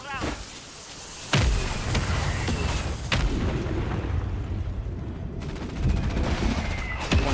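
Rapid bursts of gunfire and heavy booms, including a mortar strike, crackle through a multiplayer video game shooter, loud and continuous, with players talking over the action.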